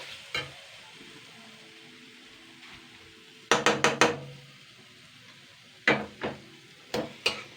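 Fish fat fries with crushed cardamom, cloves and cinnamon under a low, faint sizzle, broken by a few sharp spoon-on-pan clatters: one early, then a quick cluster of three, and a few more near the end.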